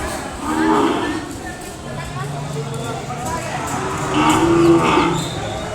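Cow and calf at a Kodada livestock market, with two drawn-out moos rising over a steady crowd murmur, the second louder and closer; people talk throughout.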